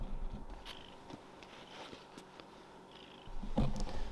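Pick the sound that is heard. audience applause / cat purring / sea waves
cat purring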